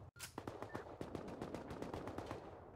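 In the game Rust, AK rifles fire a long burst of rapid automatic shots in a steady rhythm, faint and somewhat distant, with no talking over it.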